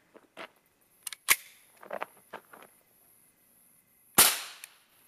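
A Kel-Tec P17 pistol fires a subsonic round, a single sharp report near the end that follows a few quieter clicks and handling knocks, with no talking.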